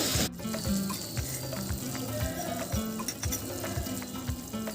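Jaggery syrup with grated coconut cooks in a pan on low heat, giving a steady close sizzle and bubbling with soft stirring scrapes throughout.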